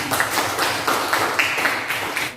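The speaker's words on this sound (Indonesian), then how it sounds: "Beri tepuk tangan." Students in a classroom applauding together, a short burst of brisk, fairly loud clapping lasting a couple of seconds.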